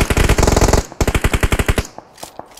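Rapid automatic gunfire in PUBG Mobile cracks out in a close, loud burst, a short pause, then another rhythmic string of shots that thins into a few scattered distant pops.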